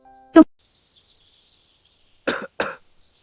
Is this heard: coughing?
yes